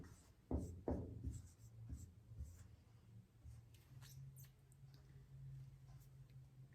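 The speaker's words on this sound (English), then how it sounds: "Let me write petals up here." Marker or chalk writing on a classroom board, a few short scratchy strokes near the start and then quieter scribbling, with a steady low hum in the background.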